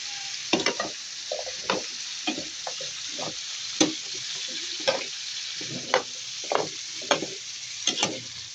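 Squash being stir-fried in a pan for ginisang kalabasa with pork, steady soft sizzle broken by repeated spoon-stirring scrapes and knocks, close and moderately loud with no talk.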